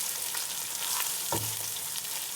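Matar pilau with whole garam masala and cumin powder cooking in a pan, a steady broad sizzle throughout with one brief scrape of a spoon midway, no talking.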